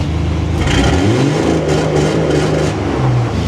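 An off-road wrecker's engine with newly installed EFI revs hard and bounces against the fuel rev limiter, loud and close, with a steady engine drone and a few choppy pulses.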